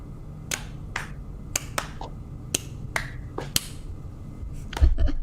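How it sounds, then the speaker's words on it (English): A deliberately sloppy slow clap from a few people: sparse, sharp claps scattered irregularly over several seconds, close and distinct against a quiet background. "You know, we can slow clap for that."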